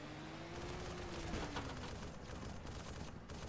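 Tank shells and gunfire in the military video game Arma 2, a dense barrage of shots over a steady engine drone, loud and continuous throughout.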